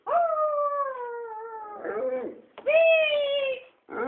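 A dog howls in long, wavering, tonal wails, two sustained howls with a short break and a third starting at the end, loud and close, with no talk over them.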